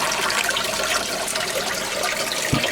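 Gravel being stirred in water in a gold pan during placer mining of a heavy gravel line on an inside bend, a steady close wash of sloshing and gritty churning with no pauses.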